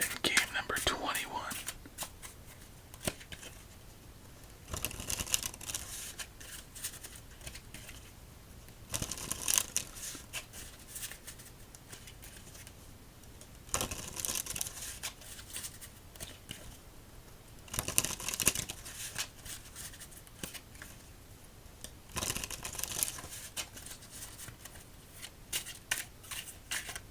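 A Tally-Ho deck of playing cards shuffled during an ASMR solitaire game, with repeated bursts of riffling and soft card flutter recurring every few seconds, close and hushed, with quiet whispering heard between the bursts.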